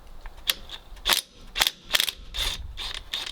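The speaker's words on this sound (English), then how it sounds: "looks like I'm gonna have to go get the impact again. I got the DeWalt 20 volt max XR," A DeWalt 20 volt max XR cordless impact wrench rattles in short, sharp hammering bursts as it loosens a part on a 1950s Massey Harris tractor, close and loud with brief pauses between.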